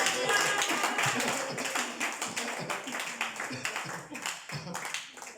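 A church congregation clapping as they acclaim the Lord, a dense crowd of rhythmic claps with voices cheering and talking underneath.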